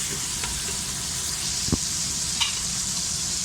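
Tomato, garlic and ginger fry in a little oil for dhaba-style keema matar, a steady close sizzle with a few soft stirring clinks over the hiss.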